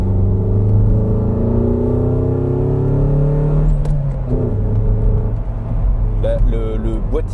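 A 1991 Toyota MR2 drives along with a steady engine drone that rises and falls in pitch as it changes speed, loud and close throughout, and a voice speaks briefly near the end.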